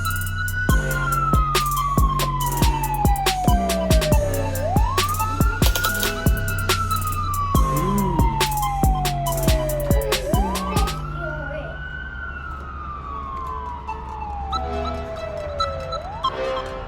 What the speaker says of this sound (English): Police car came.